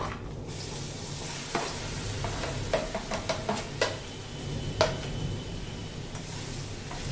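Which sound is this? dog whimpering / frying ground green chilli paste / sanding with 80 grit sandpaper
frying ground green chilli paste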